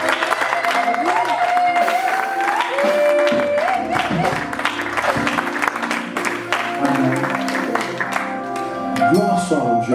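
A church congregation claps and cheers in a dense, continuous wave of applause lasting several seconds, with voices and shouts mixed in and a speaker talking over the noise.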